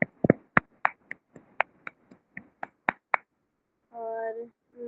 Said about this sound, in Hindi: आइए हम ऊंचे ताली लगा के परमेश्वर का महिमा करते हैं।